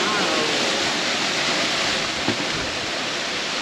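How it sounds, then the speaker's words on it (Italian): Waterfall cascading beside an old water mill with its wheel, in England, a steady broadband roar of falling water filling the scene close by throughout. "Qui abbiamo il mulino, il vecchio mulino, con tanto di ruota e di qua le cascate."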